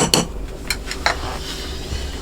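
Yellow shea butter being stirred in a separate bowl, with a few light clinks and scrapes of a utensil against the bowl, scattered and fairly quiet over soft background noise.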